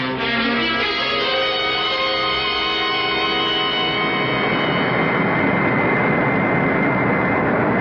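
An aircraft engine in flight drones steadily, loud and close, as a continuous roar with a faint hum on top and no breaks.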